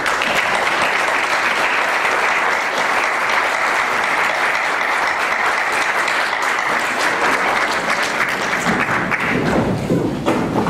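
Strong, sustained applause from a legislative assembly during an extraordinary session fills the room steadily for about ten seconds, dense and close with no speech over it, thinning slightly near the end.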